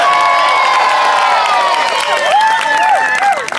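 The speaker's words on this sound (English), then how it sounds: "Let's give Aaron Sandilands a big round of applause." Crowd cheering and applause for football players at a Fremantle Dockers family fun day, loud and close, with whoops and children's shouts over steady clapping.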